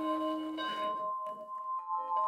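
A bell rings to signal that time is up, sustained clear ringing tones that fade and return in short chimes over about two seconds, heard alone.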